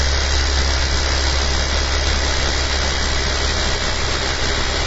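A running engine holds steady under load, giving a loud, continuous drone with a constant high squealing whine and no noticeable change in pitch.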